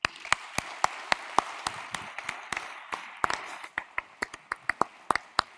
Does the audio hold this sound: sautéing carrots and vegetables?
no